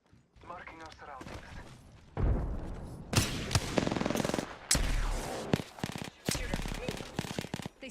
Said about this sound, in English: you shoot, reload, and then swap weapons back and forth